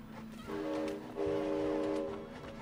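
A train moving in the video game It Takes Two, giving a loud sustained horn-like tone that comes in two long blasts over a rumbling rolling bed, with no talk over it.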